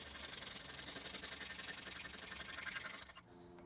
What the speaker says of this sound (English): So I'm just going to use a hacksaw to cut these to length.